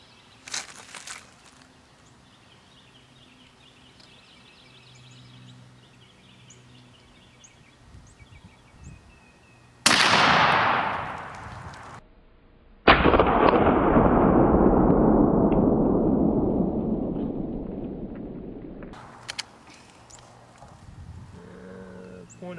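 Two heavy 12 gauge shotgun blasts firing slugs at a penetration test, a few seconds apart, each a sharp loud crack with a long rolling echo, following quiet outdoor ambience.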